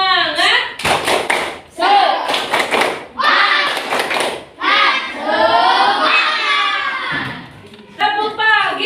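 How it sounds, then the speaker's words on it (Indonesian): A class of children performs a rhythmic clapping chant, sharp bursts of synchronized hand claps alternating with loud chanted voices in a patterned call-and-response. "Tepuk semangat."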